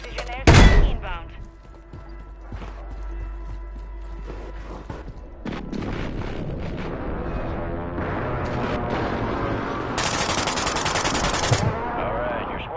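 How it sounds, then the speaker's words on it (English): Precision airstrike in the video game Warzone, with a sharp explosive blast near the start, then a rumbling barrage of gunfire and thuds building under ongoing voices and game audio. "Friendly precision airstrike inbound"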